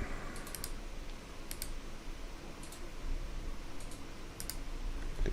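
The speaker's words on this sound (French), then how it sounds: "Clic là." Sparse mouse clicks at a computer running HiCAD design software, small sharp ticks scattered in irregular pairs over a low hum of room noise.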